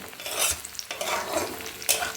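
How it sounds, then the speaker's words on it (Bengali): Sliced onions sizzle in hot oil in a pan, with a spatula scraping and stirring through them in quick, close strokes. No one speaks. "আলু ভাতে মাখবো তাই পেঁয়াজ ভাজছি"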